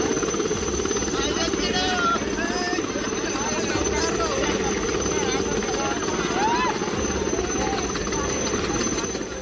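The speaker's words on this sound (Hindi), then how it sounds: "उन्हें बचाने के लिए हेलीकॉप्टर से रेस्क्यू ऑपरेशन किया गया।" Helicopter hovering during a flood rescue operation, a loud, steady rotor thump and turbine whine running throughout with no break.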